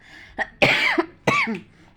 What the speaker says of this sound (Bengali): কাশি হচ্ছে বন্ধুরা কথা বলতে পারছি না